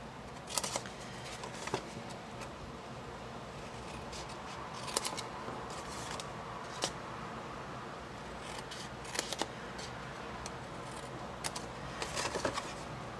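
Scissors cutting cardstock along score lines for a gardenia box, a scattering of quiet, close snips and crisp clicks spread over a low background hum, with no voices.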